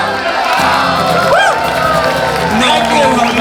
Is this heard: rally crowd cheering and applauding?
yes